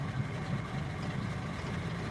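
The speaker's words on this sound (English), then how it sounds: "it's idling a little rougher than it was before" A Mopar car engine idles roughly, a steady low rumble that holds even and continuous at close range with no talking over it.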